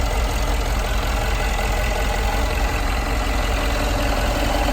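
A Mercedes-AMG G63's 5.5-liter twin-turbo V8 idles steadily and loudly nearby, a constant low rumble with a slight knocking texture and no change in pitch.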